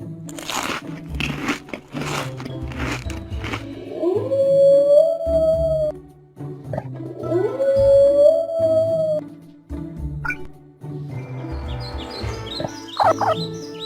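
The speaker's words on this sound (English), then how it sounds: "A wolf." A wolf howls in two long rising, sustained calls, loud and close, with crunching and other animal noises between them.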